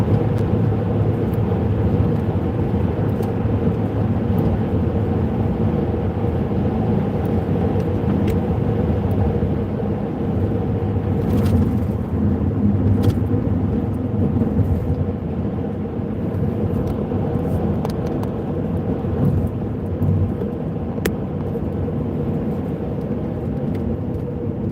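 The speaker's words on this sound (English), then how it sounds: "We're driving." A car cruising steadily on the road, its engine and tyre rumble a loud, constant drone from inside the cabin, with faint knocks and rattles now and then and no voices.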